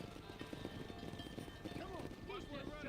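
Hooves of a horse in the Red Dead Redemption video game clip-clop in a steady rhythm, with game music and other game sounds, under someone talking.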